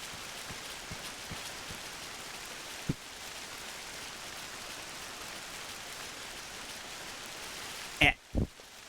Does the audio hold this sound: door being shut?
no